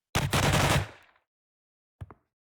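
A short burst of rapid video-game gunfire from an enemy's weapon, lasting just under a second and fading out, followed after a pause by a single brief shot.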